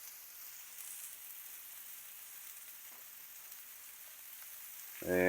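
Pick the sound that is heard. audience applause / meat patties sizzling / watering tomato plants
meat patties sizzling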